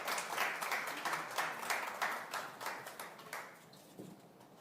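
An audience applauds as a candidate takes the stage at a People Power Party presidential primary vision presentation: dense, steady clapping from many hands, heard at a distance and fairly soft, tapering slightly toward the end.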